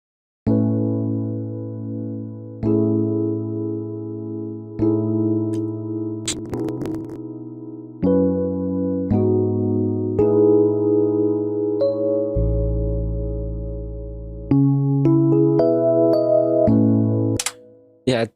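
Sustained synth chords in an amapiano track made in FL Studio change every couple of seconds in a slow progression, with a brief clicky glitch partway through and an abrupt cut at the end.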